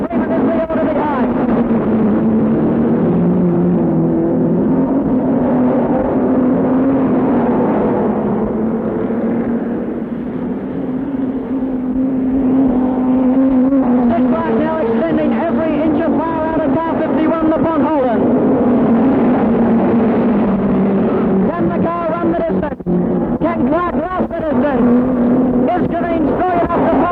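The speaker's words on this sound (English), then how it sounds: "Once more in the main straightaway, it's Clark setting a blistering pace." Midget speedcars race around the Sydney Showground track in 1965, their engines a steady, loud, continuous roar of passing cars that barely lets up, with a race commentator's voice over it.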